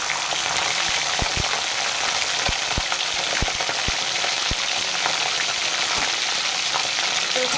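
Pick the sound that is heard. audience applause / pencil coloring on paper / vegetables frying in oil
vegetables frying in oil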